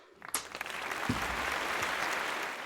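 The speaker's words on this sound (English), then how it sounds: "The ghosts all applaud as if they've seen something truly amazing." Applause from a crowd of ghosts swells quickly and holds steady, a dense, continuous patter of many clapping hands with no talk over it.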